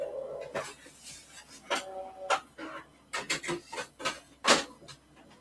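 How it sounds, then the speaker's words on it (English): A photo printer at work gives a quiet series of irregular clicks, ticks and short mechanical whirs, close by with no talking. "Let that print."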